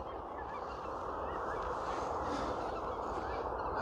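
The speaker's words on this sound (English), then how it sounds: "We got some geese flying overhead." Geese honk as they fly overhead on an outdoor walk near a roadside ditch, faint calls high above a heavy, steady rumble of wind and handling noise.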